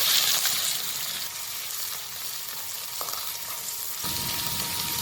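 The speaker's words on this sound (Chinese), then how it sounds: "倒点油，先把肉片给炒了。" Sliced meat sizzles and crackles in hot oil in a wok as it is stir-fried, a steady loud frying hiss with occasional stirring scrapes, no voices.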